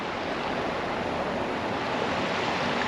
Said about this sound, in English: And we've got a nice little river here,